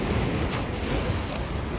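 River water in Lisbon churns and slaps after a big boat passes, a steady loud rush of waves mixed with heavy wind noise on the microphone.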